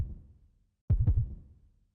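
Heartbeat sound effect from the visual novel Root Double: a single loud, close double thump, lub-dub, standing alone after a fading low rumble.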